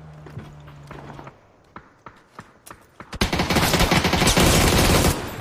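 Gunfire in a shooting video game: scattered single shots and short bursts, then a dense, sustained fusillade of rapid automatic fire that ends abruptly, with a faint voice near the start.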